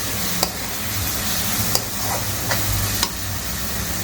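Chili powder being sautéed in oil for paneer bhurji, a dense steady sizzle right by the pan, with a few sharp spoon taps against the metal rim at intervals.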